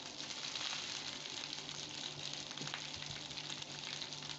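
Leftover rice frying in a pan at home, a steady close hiss and crackle of sizzling with faint stirring scrapes throughout.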